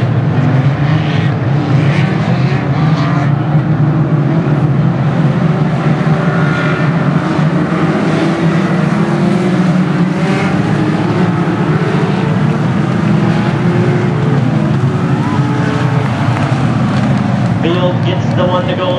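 Legends race cars roaring down the front straightaway of a dirt track at the Dirt Nationals, a loud, dense engine drone that holds steady throughout.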